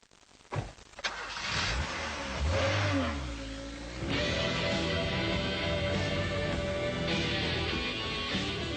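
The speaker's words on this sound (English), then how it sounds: "Under the bonnet I have a 136 brake horsepower 2-litre 16-valve engine" A Rover 420 Tourer's 136 horsepower 2-litre 16-valve engine starts with a sharp crank, then settles into a steady idle with a brief rev, heard close up.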